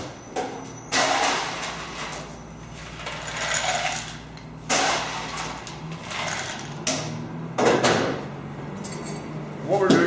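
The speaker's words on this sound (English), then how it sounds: "stir our cocktail to chill it" Ice is stirred in a Manhattan cocktail of Alberta Premium rye whisky, giving close, scattered bursts of clinking and rattling separated by quieter gaps.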